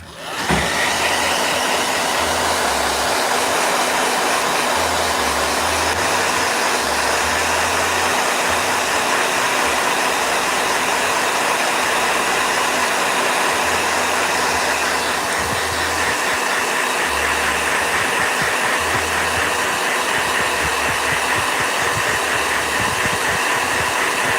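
A blow dryer runs continuously at full power, a loud steady whooshing roar with a constant motor whine, close up and uninterrupted for the whole stretch with no voices.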